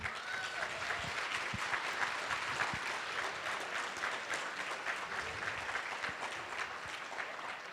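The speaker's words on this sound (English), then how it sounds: "Let's give a round of applause to Lake Forest Elementary School Steel Band." Loud, steady applause from an audience at a volunteer awards luncheon, saluting an elementary school steel band, with many hands clapping continuously and evenly throughout.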